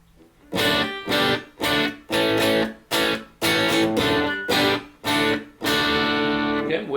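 Electric guitar through a Yamaha THR10 II amp on its crunch setting, with a touch of chorus and delay, played as a series of strummed chords in short bursts separated by brief gaps, close and clear with no talking.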